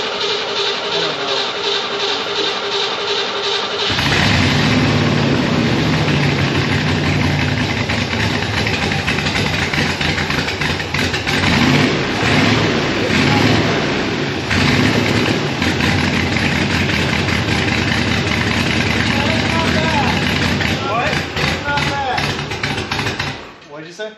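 A C2 Corvette hot rod engine, unstarted for 10 years and misfiring badly, idles roughly and loudly from about four seconds on, with uneven, stumbling pulses and people talking over it.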